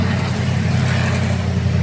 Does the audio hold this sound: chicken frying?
no